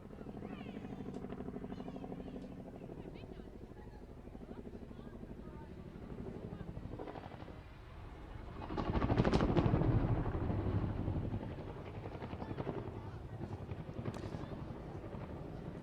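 A twin-rotor Chinook helicopter flies an airshow display at RAF Waddington, a steady rotor and engine roar that swells loudest midway and then eases, with a commentator talking over the noise on the public address.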